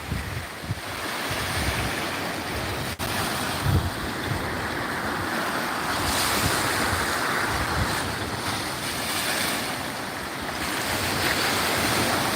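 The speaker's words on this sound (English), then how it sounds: "I'm gonna stick my GoPro right in there where the water's splashing up." Lake George water waves splash and wash up against ice in a steady, close surging roar on a cold day, with wind buffeting the microphone throughout and no voices.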